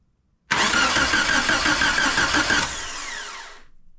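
A Geo Tracker engine cranks and catches, running loud and close with a steady rough churn, then settling lower as it idles and fades toward the end.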